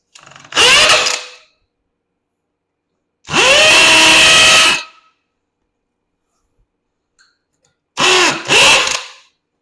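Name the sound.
power tool drilling out golf cart floor rivets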